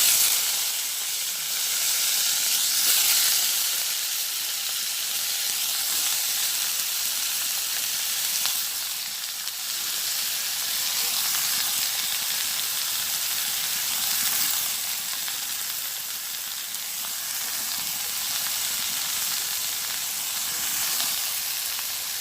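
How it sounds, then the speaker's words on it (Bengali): Bottle gourd added to hot oil with bay leaves and whole cumin, sizzling with a loud, steady, hissing fry that carries on without a break. "তো তেল গরম হয়ে গেছে, আমি এখন লাউটা দিয়ে দিচ্ছি।"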